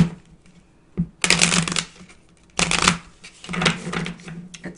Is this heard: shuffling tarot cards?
yes